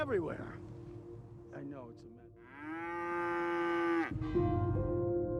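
A cow with the Metallica symbol shaved into its hide lets out a long, loud moo close by, after a few brief vocal sounds at the start.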